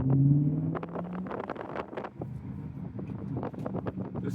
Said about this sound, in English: I'm just going to share with you guys how this engine sounds.